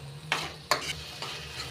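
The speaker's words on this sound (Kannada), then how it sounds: "ಇದರೊಳಗೆ ಈ ಥರ ಎಲ್ಲ ಮಿಕ್ಸ್ ಮಾಡಬೇಕು" Mutton with pepper and garam masala stirred in a sizzling pan for mutton chilli, a steady fry hiss broken by two or three sharp scraping strokes of the spoon, close up and with no talking.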